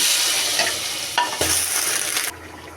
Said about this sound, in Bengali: রসুন পেঁয়াজগুলি বেজে নেব বাজা হয়েছে এখন আমি দিয়ে দেব